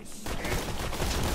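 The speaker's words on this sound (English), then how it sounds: "I'm just gonna shoot him in the face." Rapid gunfire from the video game Borderlands 2, a dense continuous burst of shots lasting just over a second, loud and up front after a brief quiet start.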